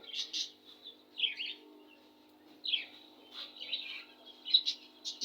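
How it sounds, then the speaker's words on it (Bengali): Budgerigars chirp in short, high twittering bursts, scattered and fairly faint over a quiet low hum. "এই দেখেন বাজিগার"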